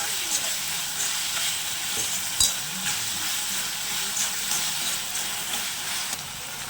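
Onion with ginger garlic paste fries in a pan, a steady bright sizzle running throughout with occasional stirring clinks and scrapes, close and continuous with no talking.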